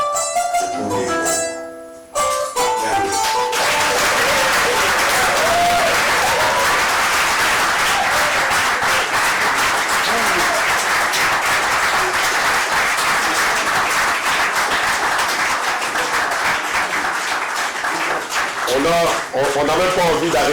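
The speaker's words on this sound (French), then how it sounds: "On n'a même pas envie d'arrêter d'applaudir pour lui," Sustained audience applause and clapping fills a hall after a spoken-word performance at the first edition of the FAVA event, loud and continuous for nearly twenty seconds, with a brief musical sting and crowd noise at the start.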